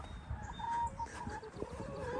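Chickens cluck softly in their coop, scattered faint clucks over low background rumble and rustling, with no talking.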